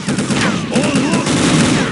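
Rapid gunfire in Unreal Tournament 2004, a dense, loud burst of overlapping shots and weapon effects that fills the whole moment without a break.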